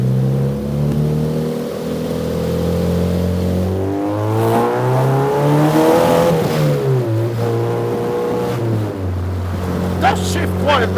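A kit car engine accelerates through rising revs with smooth gear changes, heard from inside, loud and close, while people talk over it.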